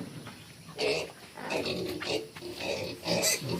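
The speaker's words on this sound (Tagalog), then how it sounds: "Wa pa biya ni nabahog yang baboy." Pig grunts at a farm come in several short, rough bursts, fairly close and moderately loud, against quiet background noise.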